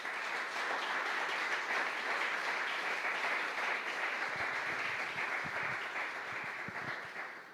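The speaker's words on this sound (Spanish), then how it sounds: "Dale un aplauso al Señor por eso también." A church congregation applauds during a sermon, dense sustained clapping from many people filling the room at a steady level before easing slightly toward the end, with no voices on top.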